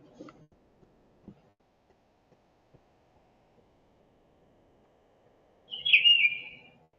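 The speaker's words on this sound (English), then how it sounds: "Yeah, that's my CapCut notification on my phone." A CapCut app notification plays on a phone, a short bird-like chirp that sounds once, clear and close, after several seconds of near silence broken only by faint clicks.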